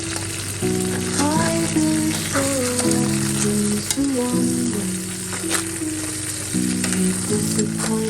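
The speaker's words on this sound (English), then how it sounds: "This is stir fried Cambodian crab" Cambodian crab with ginger stir-fries in a hot pan, a loud, continuous close sizzle with stirring, while a song with sustained sung notes plays over it throughout.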